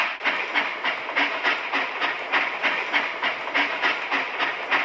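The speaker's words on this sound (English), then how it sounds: "Let's send the train to the depot." A toy-like train from a kids' railway repair game rolls along its rails with a steady, rhythmic clickety-clack and a soft hiss underneath, moderately loud and alone.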